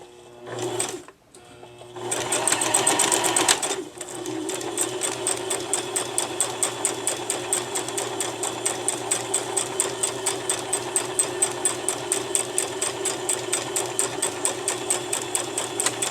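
A sewing machine stitches a sock monkey's ear: a couple of short stop-start bursts, then a long, steady run of fast, rhythmic mechanical clatter, close and fairly loud, with no talking.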